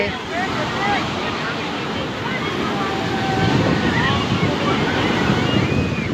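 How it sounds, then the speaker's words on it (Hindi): Waves wash in continuously on Manora Beach with a dense rushing roar, mixed with wind buffeting the microphone and faint voices underneath. "ये पानी की लहरें आ गई हैं यहाँ पे।"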